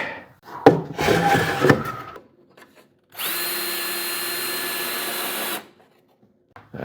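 A power drill drives screws through plywood on a wooden front door in two loud, close bursts: a short, rough whirr, then a longer, steady high whine that stops abruptly.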